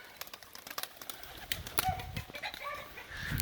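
Pigeons flap their wings inside a house full of birds, giving a rapid, irregular flutter of wingbeats at close to moderate distance, with soft coos and no clear speech.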